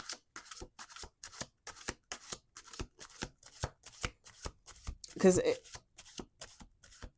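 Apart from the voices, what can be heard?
tarot cards being shuffled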